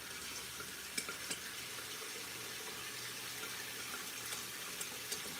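Water runs steadily from a tap while dishes are washed at a kitchen sink, a continuous hiss with occasional soft clinks and knocks, no speech.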